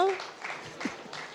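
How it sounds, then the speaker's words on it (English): Audience applause at an India Today Conclave interview, a brief steady wash of clapping from a crowd, with a voice speaking over the start. "A big round of applause for what a sport she is"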